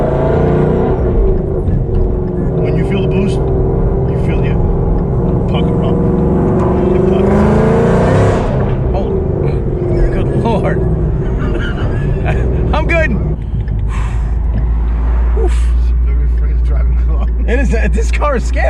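A boosted Ford Mustang S550 making about 800 rear-wheel horsepower accelerates on the street, its engine note rising and swelling from inside the car while people talk loudly over it.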